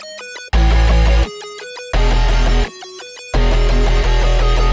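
A distorted synthesizer lead imitates strummed guitar chords in a punk hyperpop production, playing loud sustained chord bursts with short gaps between them, accompanied by heavy low bass and no voices.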